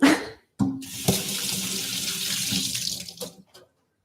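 Hands rinsed under a running kitchen tap, the water cut off briefly then gushing steadily and close for a few seconds before stopping, with no talk.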